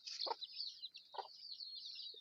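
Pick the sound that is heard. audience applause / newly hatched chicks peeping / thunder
newly hatched chicks peeping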